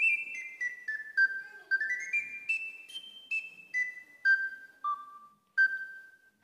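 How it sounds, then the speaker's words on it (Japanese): A small ocarina sounds a bright, high, bird-like melody of short sustained notes gliding down and up, clear and close with no voices. "小さいオカリナもじゃあ音聞いてみましょう。"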